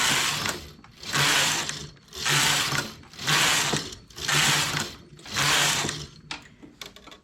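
Domestic knitting machine carriage sliding back and forth across the needle bed while working simple embroidery, six steady mechanical whirring passes with brief pauses between them, close and alone.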